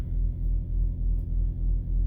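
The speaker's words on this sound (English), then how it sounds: "That is the sound of money burning in my reefer trailer." Reefer trailer refrigeration unit running at a truck stop, a steady low diesel hum with a faint rhythmic pulsing throb, close and continuous with no voices.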